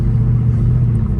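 Deep steady rumble of a Mercedes CLK63 running, a car with a twin-turbo diesel mentioned alongside it, idling close and loud with a constant low engine drone.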